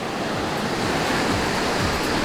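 Ocean surf rolls in at Arambol Beach in Goa, a loud steady wash of breaking waves close by, with wind rush and no voices.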